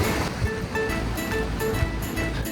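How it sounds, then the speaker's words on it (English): Surf breaks against rocky shoreline at Cinque Terre on the Italian coast, heard as a steady wash of waves with periodic swells, moderately loud with some wind buffeting the microphone. "the waves are crashing against the rocks"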